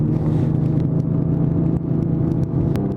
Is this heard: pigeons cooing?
no